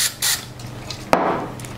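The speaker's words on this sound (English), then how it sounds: "I've got some spray adhesive, some 3M Super 77 spray adhesive. We're gonna spray some" 3M Super 77 spray adhesive sprayed into a cut-down paper cup in short hissing bursts, close, with a sharp knock in the middle.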